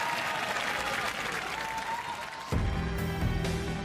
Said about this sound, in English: So a round of applause for Apollo, ladies and gentlemen.